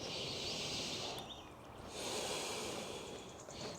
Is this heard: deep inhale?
yes